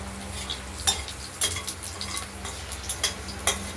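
Soft sizzling of garlic, black cumin and green chilies frying in oil, with a few sharp pops and light utensil clinks scattered over a low steady hiss.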